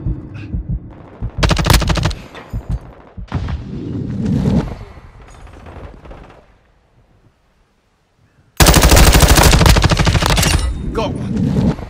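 Gunfire in Call of Duty: Modern Warfare II, with loud bursts of rapid automatic fire and heavy impacts, broken by a short near-silent gap before an intense, sustained barrage resumes.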